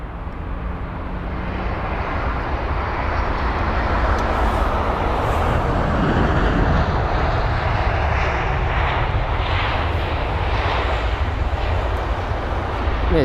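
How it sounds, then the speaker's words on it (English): An Airbus A320ceo jet with retrofitted sharklets landing at London Heathrow, a loud, steady jet-engine roar that builds and rushes past close by, with no talk over it. "we have the A320 CEO with the retrofitted sharklets on board"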